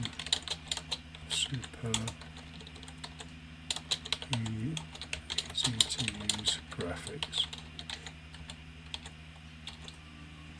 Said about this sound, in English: you'll see I've been typing down here